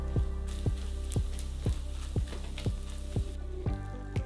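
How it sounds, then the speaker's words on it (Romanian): Walnuts are stirred into melted caramelized sugar in a pot, giving a soft continuous sizzle with a regular series of scraping stirs about every half second, close and fairly quiet. "A urmat nuca și am amestecat de câteva ori."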